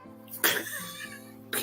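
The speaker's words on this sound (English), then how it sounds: "This guy will cough." A man coughs twice in a quiet room, with one sharp burst early and a second shorter burst near the end, both close and loud over a low background hum.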